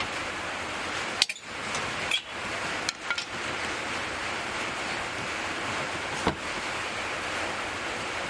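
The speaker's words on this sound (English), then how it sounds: "We're having a good rainstorm come through here in the Pacific Northwest." A heavy rainstorm in the Pacific Northwest makes a steady, dense hiss and roar throughout, broken only by a few brief knocks and clicks.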